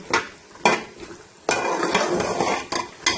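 Beans with minced meat (keema) are stir-fried in a pan: loud spatula knocks and scrapes strike at irregular intervals over a frying sizzle that swells in the latter half, close and busy.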